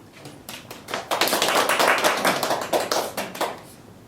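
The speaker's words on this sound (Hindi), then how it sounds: "आइए स्तुति आराधना के लिए प्रभु का तालियों से स्वागत करते हैं" Church congregation clapping to welcome worship, starting with a few scattered claps and building into a brisk, fairly close burst of many hands before tapering off.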